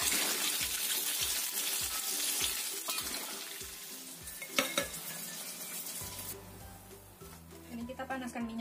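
Tofu frying in hot oil in a home kitchen, a steady bright sizzle throughout with a series of soft rhythmic knocks and a few utensil clinks and scrapes near the end.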